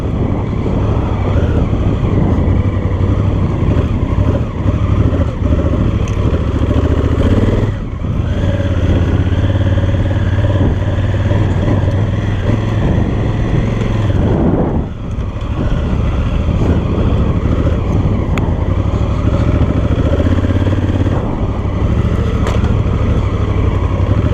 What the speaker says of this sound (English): Just doing a little off-road riding here.